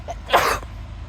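A single short, sharp sneeze bursts out close by inside a chicken house, followed by quiet.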